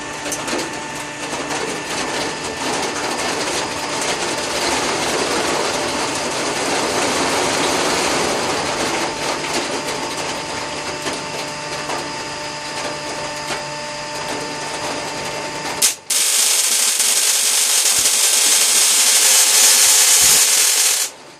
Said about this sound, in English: Now you can turn the rotary gap on.